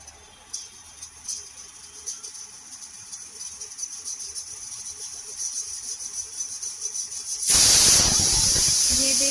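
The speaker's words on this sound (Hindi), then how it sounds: "ये देखिए 2 सीटी आ गई" A pressure cooker holding mixed mustard, spinach and bathua saag gives a loud, sustained steam whistle that bursts in near the end, after a stretch of quieter kitchen hiss and faint background sounds.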